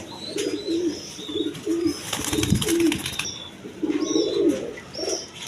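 Lahori pigeons coo in repeated low, throaty phrases close by, with light chirps and a brief burst of wing flapping and rustling in the middle.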